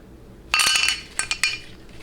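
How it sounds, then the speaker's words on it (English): A valve for a TH475 transmission, soaked in WD-40, drops into a valve body bore with a bright metallic clink followed by a few lighter rattling taps, close and crisp in a quiet setting. "So you have your valve soaked in WD-40, just drop it in."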